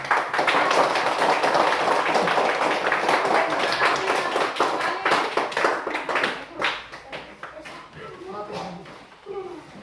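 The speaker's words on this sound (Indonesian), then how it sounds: "Tepuk tangan untuk kelompok" A group of people claps together for a class group in a loud, dense burst that thins out and fades over the last few seconds, with voices mixed in.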